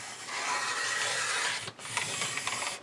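Rasping, scraping cut through sign material while trimming a handmade sign, a steady close friction sound with a short break near the middle and another at the end.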